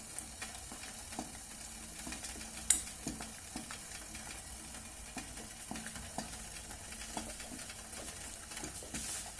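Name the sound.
stirring melted wax, rosin and turpentine mixture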